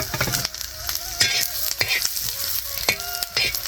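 Coriander seeds and chili hitting hot oil in a pan during home egg-curry cooking, a steady crackling sizzle with sharp bursts and popping clicks throughout, close and fairly loud, no talking.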